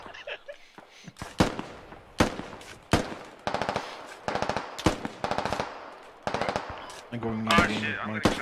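Rapid automatic gunfire crackles in bursts during a squad shooter video game, with short rattling volleys and single shots at varying distances, and a player speaking briefly over the fighting.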